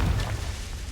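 The Confringo explosion spell from the video game Hogwarts Legacy lands as a short, deep boom that thumps loudly at once and then fades into a rumbling tail, with no voices.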